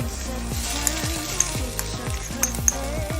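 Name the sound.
garlic sizzling in a frying pan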